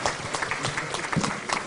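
A short stretch of audience clapping at a Hindu temple gathering after a swami's speech, steady and moderately close with individual claps audible, and no clear talk.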